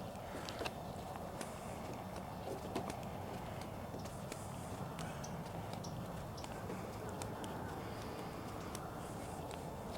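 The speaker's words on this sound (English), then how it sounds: "You hear birds off in the distance and flip-flops flapping." Faint bird calls and cooing drift in from far off over a steady outdoor ambience in Florida, with occasional soft ticking sounds.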